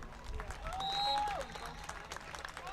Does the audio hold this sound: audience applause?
yes